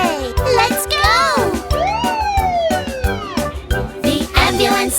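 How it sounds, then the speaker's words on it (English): An animated ambulance siren rises and falls in sweeping, wailing tones through a children's nursery-rhyme song, loud and continuous over music, with a childlike voice nearby. "The ambulance siren goes woo, woo, woo, all through the town"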